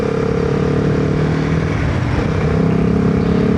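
A Royal Enfield Himalayan 450 motorcycle with an aftermarket reusable air filter revs around 5,000 rpm, giving a loud, steady, deep engine drone up close with slight pitch shifts.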